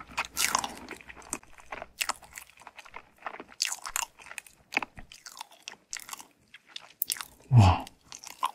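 Close-miked bites and chewing of a macaron crepe, with crisp crunches and soft sticky mouth sounds arriving in irregular bursts separated by quiet pauses, plus one heavier bite near the end.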